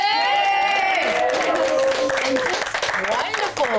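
Studio audience claps and cheers loudly at the close of a Battenberg cake baking masterclass on a televised baking competition, with dense continuous applause and excited voices throughout.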